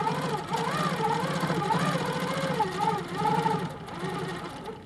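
A longarm quilting machine stitches along a boat quilt border with a loud, close, rhythmic motor hum whose pitch rises and falls in repeated swoops as the head is guided, running continuously with no talk.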